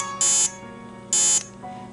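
Elite Tek 9868 dog training collar receiver beeping, two sharp high electronic tones about a second apart, each lasting roughly a quarter second, close and clear over a quiet background.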